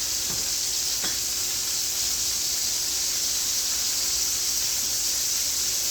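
Cajun chicken sizzling as it cooks in a pan, a steady bright hiss that holds unbroken throughout, with a couple of faint clicks near the start.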